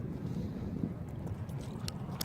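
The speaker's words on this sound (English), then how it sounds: "it's still windy" Steady low, rumbling wind buffeting the microphone, continuous throughout with occasional brief gusts and rustles, no voices.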